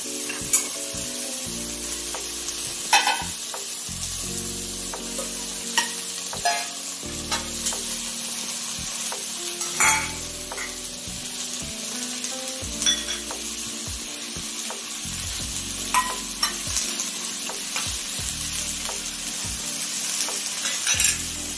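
Whole spices fry in a spoonful of ghee for vegetable biryani in a Healux pot, crackling steadily up close while a spoon stirs and scrapes the pan in a rough rhythm, with no one talking.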